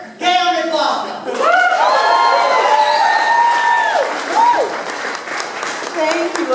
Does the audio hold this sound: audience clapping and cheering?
yes